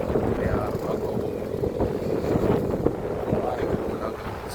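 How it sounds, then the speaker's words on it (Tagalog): Strong wind buffets the microphone outdoors during a solo run, a constant low rumbling roar with gusty swells. "Lakas na hangin."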